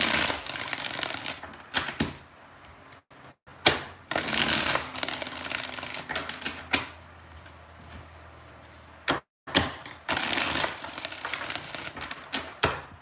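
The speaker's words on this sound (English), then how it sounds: "Two more shuffles here." Tarot cards being shuffled in repeated bursts of crisp riffling and slapping, with short quiet gaps between shuffles, close and fairly loud.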